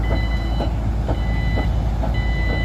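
A new SANY 500H excavator, a heavy machine on double-track railway construction, sounds steady reversing beeps in a repeating rhythm over a constant loud engine rumble, with no talk.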